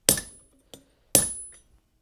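Hammer blows on hot steel while forging blacksmith tongs: two loud, sharp ringing strikes with a lighter tap between them, close and clear, with no talking.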